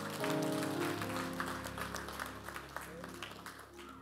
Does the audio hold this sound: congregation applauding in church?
yes